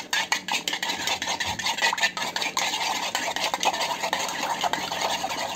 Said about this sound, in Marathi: आता छान फेटून घेऊयात।